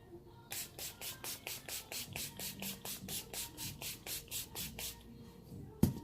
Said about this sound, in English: I'm gonna set my face with NYX matte setting spray.